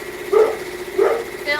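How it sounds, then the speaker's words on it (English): A dog barks indoors, two loud close barks with a third softer yelp at the end. "Sorry, he's not stopping barking."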